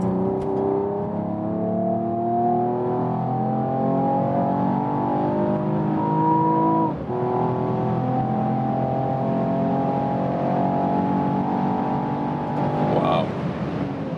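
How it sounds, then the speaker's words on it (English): Mercedes-AMG E53 Estate accelerating hard from about 80 km/h, engine note climbing steadily through the gears from inside the cabin, with one brief dip at a gearshift and a voice speaking near the end. "So on one more acceleration from you, when we are already at about 80 kilometers."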